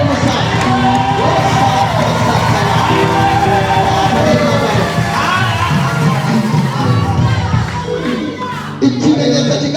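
A church congregation claps and cheers loudly and continuously, with shouts and whoops rising over dense applause that keeps going throughout.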